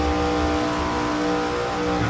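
Race car engines roar around Talladega in iRacing, a steady, loud, sustained drone with tonal buzzing harmonics, as if riding inside the car with others packed close alongside in the draft.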